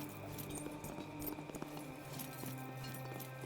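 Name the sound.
horse hooves clip-clopping in a video game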